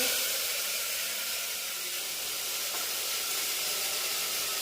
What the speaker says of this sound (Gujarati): અહીં આ વઘારમાં પાંદડા અને આ લીમડો ને ટમેટા મસ્ત વઘાર કરી રહ્યો છે